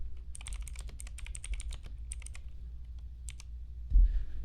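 Typing on a computer keyboard, quick bursts of close, crisp key clicks with short pauses, ending in a slightly heavier tap, alone without talk.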